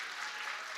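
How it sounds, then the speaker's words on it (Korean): A church congregation gives a brief burst of steady, soft applause to the media and worship teams. "우리 저분들을 위해서 큰 박수 좀 보내줬으면 좋겠어요."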